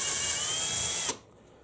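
An electric drill with a number 27 bit bores clearance holes for a band saw blade brazing jig on a workbench, a steady high whine for about a second that cuts off abruptly into quiet.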